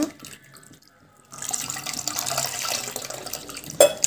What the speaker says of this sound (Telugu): మనం చల్లటి వాటర్ పోసుకుంటూ ఉండాలి ఆరిపోయేదాకా.